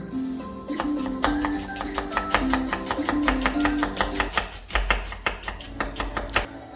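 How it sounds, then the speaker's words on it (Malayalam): Three large onions being chopped finely with a knife for a chicken curry: a steady run of crisp, evenly spaced chops on a board, close and fairly loud over a low, constant background hum. "നമുക്കൊരു 3 വലിയ ഉള്ളി ചെറുതായിട്ട് നമുക്ക് അരിഞ്ഞെടുക്കാം."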